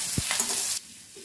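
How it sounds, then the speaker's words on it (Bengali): Grated ginger frying in oil with a bright, hissing sizzle that cuts off abruptly after a moment, followed by a quieter background. "আদাটা বেশ একটু ভাজা ভাজা করে নিতে হবে"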